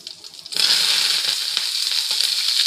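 Mustard seeds, small shallots, green chillies and curry leaves hit hot oil for a tempering, starting with a sudden loud sizzle that settles into steady close frying with faint popping and crackle.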